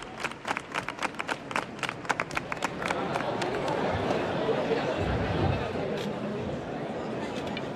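Brotherhood members at a Holy Week procession in Granada applaud its start, a burst of sharp claps at first that thickens into steady crowd applause mixed with murmuring voices.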